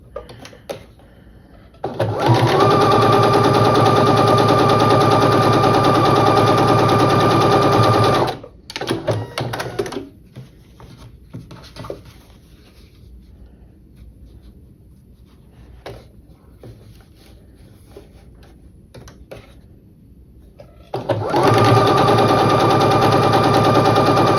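A sewing machine stitching the corners of a quilt block, two long bursts of rapid, steady mechanical whirring at the start and end, with quiet handling noise and pauses between them.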